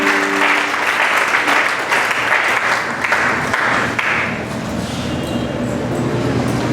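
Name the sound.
audience applause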